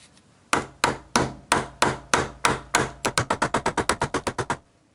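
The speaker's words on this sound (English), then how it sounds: "grab your trusty hammer" Metal hammer blows ring out as a suspension drop link is driven out of an Alfa Romeo Giulietta, a nut threaded on to protect its end. The strikes start slow and evenly spaced, then speed up into a quick, loud run of blows.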